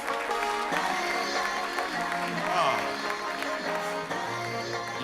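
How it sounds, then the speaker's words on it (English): A warm round of applause welcoming Kurt McGraw to the stage, sustained clapping from an audience that carries on evenly with some tonal background underneath, moderately distant and without a break. "Ladies and gentlemen, please give a warm round of applause to Kurt McGraw."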